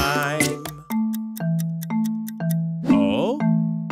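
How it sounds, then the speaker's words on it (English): A bright chime from a children's cartoon song about fresh fruit ice cream rings out in a steady run of evenly spaced struck notes, with cheerful singing voices over the opening and middle. "Take some time, we wait, wait, wait, till we hear a chime."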